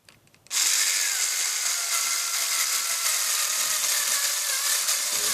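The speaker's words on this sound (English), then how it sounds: "Keep drilling away." Power drill boring a hole at low speed, a bevel still showing as the bit follows its guide hole; after a brief start, a steady, close, loud whirring grind runs unbroken to the end with no talking.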